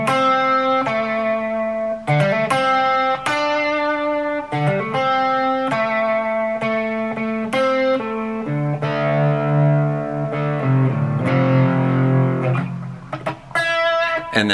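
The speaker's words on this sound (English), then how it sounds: "it's two different guitars playing, and they're kind of playing over each other at this point" Two electric guitars play over each other on a song, picking clean, bright notes in a steady rhythmic pattern with ringing sustain that thickens into overlapping lines later on, loud and close with no talking.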